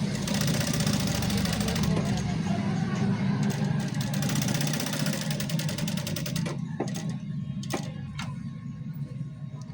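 A sewing machine runs steadily while stitching the double cuff of a shirt, a dense continuous mechanical whir with a few separate clicks near the end as it slows.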